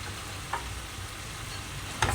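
Bihon pancit noodles with a little soy sauce being stirred and fried in a pan with chopsticks, a soft steady sizzle with two brief scraping clinks of the utensil.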